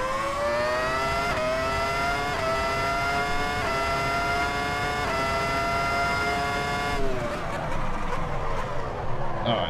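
RSS 2000 race car in the Assetto Corsa EVO racing game, its engine droning loud and steady at high revs for several seconds before the pitch drops as it slows, with no talk over it.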